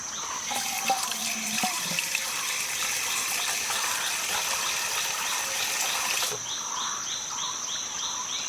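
Tap water runs steadily into a glass while filling a drink, a continuous close hissing gush that shifts in tone as it fills.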